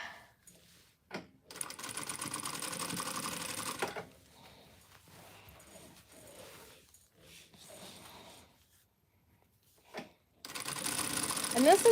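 A sewing machine stitches a T-shirt quilt in two steady whirring runs, close and clear, with pauses of quieter handling and faint talk between them.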